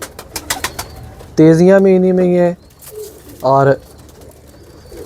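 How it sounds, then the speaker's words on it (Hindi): Golden cream-bloodline Kamagar and Teddy pigeons give two loud, close, throaty coos, a long one and a shorter one, between stretches of someone talking nearby. "मुझे ज़ाती तौर पे कबूतर ये वाले पसंद हैं"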